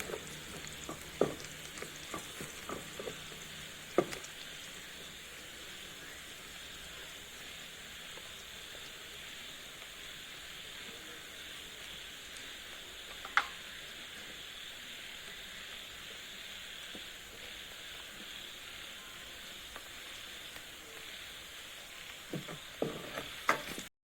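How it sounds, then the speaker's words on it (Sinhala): Garlic frying in a pan until golden for a Sri Lankan dish, a steady soft sizzle and hiss with occasional light clicks and stirring taps, no voices. "සුදු ලුණු ටික රන්වන් පාට වෙනකම් බැද ගන්න"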